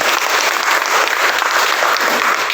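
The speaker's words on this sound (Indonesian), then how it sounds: "Tepuk tangan untuk beliau" Steady, dense audience applause fills a hall at a teachers' association seminar on legal protection for the teaching profession in Sangkapura, holding at an even, loud level throughout with no voices rising above it.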